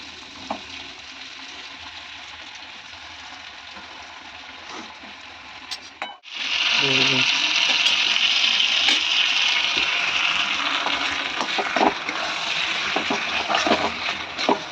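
Water poured into mutton frying in a pan sets off a sudden loud, hissing sizzle midway, following a quieter stretch of gentle frying, and the bubbling then continues steadily.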